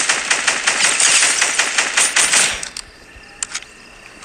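Rapid automatic gunfire in the Fortnite video game, a dense burst of fast shots lasting a couple of seconds, followed by a few scattered single shots.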